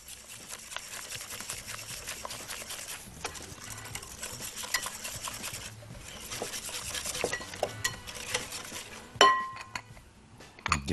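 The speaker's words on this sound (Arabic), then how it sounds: "نقلب مع بعض ونبدا ندي لها الدقيق عشان تبقى عجينه كده" Flour being stirred into a thick batter for apple pastries, a spoon scraping and clinking steadily against the bowl in a continuous rubbing rhythm, close and fairly quiet with sharper clinks near the end.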